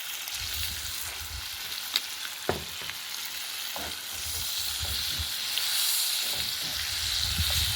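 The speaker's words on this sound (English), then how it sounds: "Then you just want to stir your squash around and get some of that brown butter on everything." Sliced summer squash sizzles in brown butter in a pan, a soft steady frying hiss with occasional spoon knocks and scrapes as it is stirred, nearby and moderately quiet with no speech.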